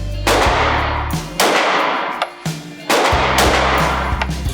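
Glock 43X compact concealed carry pistol fired at an outdoor shooting range: three loud, close gunshots spaced about 1.3 seconds apart, each with a short trailing echo over a low rumble.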